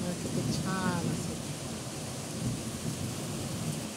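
Rain falls steadily outdoors in lush green countryside, a broad continuous wash of drops with low rumbling thunder underneath, a voice briefly heard early on.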